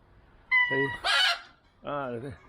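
Two loud, close bird calls, a harsh squawking cry followed by a hoarse, drawn-out crowing call, with a short pause between them.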